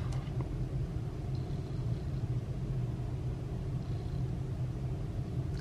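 A T-Motor F60 Pro V3 brushless drone motor spins steadily, producing a continuous, moderately loud whirring hum with a low rumble, even and unbroken throughout.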